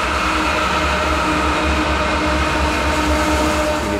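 A train rumbles past close by, a loud continuous low roar with a steady mechanical hum and no talking.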